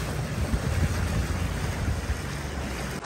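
Ice-cold river water rushing steadily, a dense broadband roar heard up close with no voices over it.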